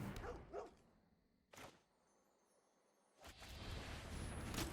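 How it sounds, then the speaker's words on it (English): Dogs in a video game bark in short bursts, a couple early and another near the middle, followed by a louder sustained stretch of noisy activity at the end. "Summons more dogs."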